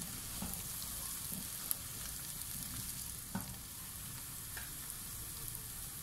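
Aloo matar curry sautéing in a pan, a steady low crackle and sizzle with a few faint stirring clinks.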